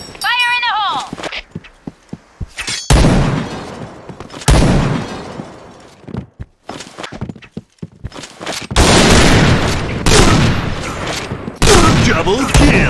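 Video game battle with gunfire bursts and explosive blasts in a shooter, loud and repeated across the span, with a shouted voice and game announcer speech mixed in.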